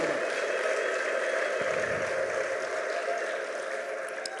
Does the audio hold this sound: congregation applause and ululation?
yes